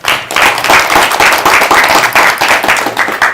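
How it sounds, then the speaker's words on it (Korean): An audience at a career mentoring talk claps loudly and closely after a presentation by the Intel Korea head, a dense rhythmic burst of hands that continues for over three seconds. "수고해주신 대표님께 큰 박수 부탁드립니다"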